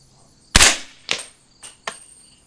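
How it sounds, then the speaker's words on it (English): Four suppressed 300 Blackout subsonic rifle shots from an AR-15 fitted with a Sig 7.62QD suppressor, with sharp reports spaced about half a second apart; the first is loudest and the rest are slightly softer. "Let's put these 5 rounds down range."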